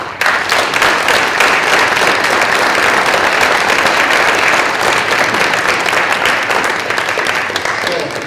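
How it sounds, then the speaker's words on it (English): Loud, sustained applause at a high school Hall of Fame induction ceremony for the 1967 football team, a dense crowd clapping steadily for several seconds with a faint murmur of voices beneath. "I'd like to have you all give them another round of applause."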